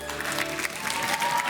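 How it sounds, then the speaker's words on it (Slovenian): Studio audience applause for two primary-school teams on a televised children's quiz show, a dense, steady wash of clapping that holds for the whole moment with no voices. "en aplavz obe ekipi"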